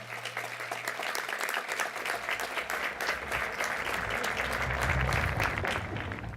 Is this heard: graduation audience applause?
yes